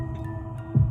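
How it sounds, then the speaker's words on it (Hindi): A heartbeat sound effect in a horror story setting: low, muffled thumps under a steady droning hum, ending in one heavier, louder throb, with no voices. "रीना का दिल जोर से धड़कने लगा।"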